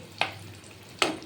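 Sweet pastry sizzles quietly as it deep-fries in oil, with two sharp clinks or scrapes about a second apart.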